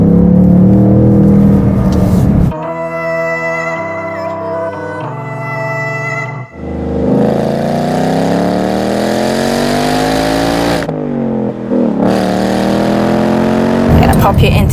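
A Ford Mustang Bullitt's 480-horsepower engine roars through revs and hard acceleration, rising in pitch through gears, loud and close, with speech heard along the way.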